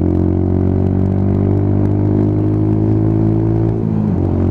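A Lexmoto Tempest GT 125 motorcycle under power, its engine droning loud and close with a steady buzzing note and a brief dip near the end as it shifts gear, with no talking.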